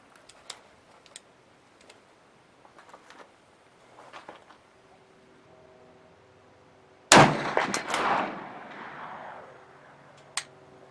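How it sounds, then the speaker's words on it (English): .50 Beowulf rifle at a shooting range: after quiet clicks and handling sounds, one sharp, loud gunshot booms with a trailing echo, followed by a faint click. "So here goes the first shots."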